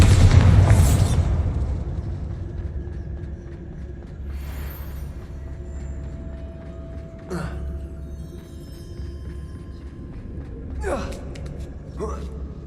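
A Bombarda blasting spell in the Hogwarts Legacy video game, inside an abandoned mine: a heavy booming explosion at the start that rumbles away, followed by quieter game effects and later sharp bursts.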